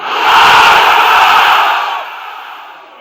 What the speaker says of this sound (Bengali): এবার অবিয়াদারি ভাইরা আমাদেরকে তাকবীর শোনাবে।